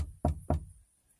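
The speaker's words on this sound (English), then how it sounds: "Knock on wood." Two sharp knocks on wood, close and loud, spaced about a quarter second apart, followed by near silence.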